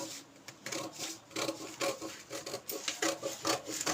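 Scissors cutting a U-shaped neckline into blouse fabric, a steady run of close, rhythmic rasping snips, quiet and without talk.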